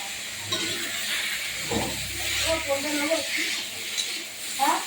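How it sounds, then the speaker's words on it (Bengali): Rice boiling in a pot gives a continuous soft hiss and bubbling, with a voice talking over it and a few faint clinks. "দেখো বন্ধুরা, ভাত ফুটছে"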